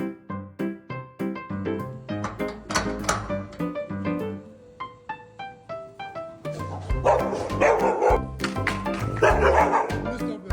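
A dog barks and yips in repeated short bursts, some rapid and overlapping, with occasional whimpering, fairly loud and close against a busy background that swells toward the end.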